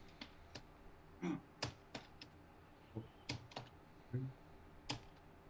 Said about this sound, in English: Somebody's really angry on that keyboard.